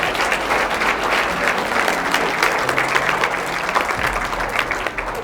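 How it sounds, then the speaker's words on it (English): An audience applauds at a speech event in Oklahoma City, loud, dense clapping that holds steady throughout without pause. "So let's give him a round of applause."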